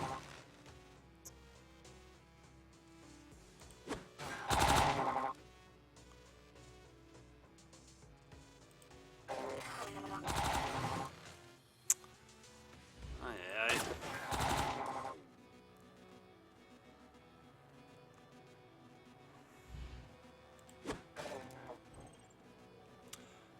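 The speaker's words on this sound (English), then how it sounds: "I'm running kind of low on the reactor, so I don't want to use my rifle. So I'll just use my pistol then." Pistol fire in the sci-fi game Sword of the Stars: The Pit comes as a few short, scattered bursts of shots, fairly faint, over a quiet game background hum.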